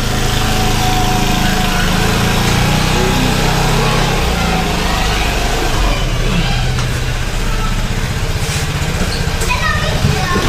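A motorbike engine runs steadily as the bike is ridden in, a constant buzzing drone with faint voices mixed into the noise, close and continuous throughout.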